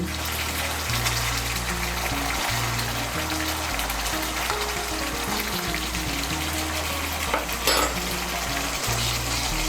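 Niramish doi potol curry with ghee and garam masala added, a continuous close sizzle and bubbling in the pan with occasional stirring, steady and unbroken, with a faint background tone running beneath it.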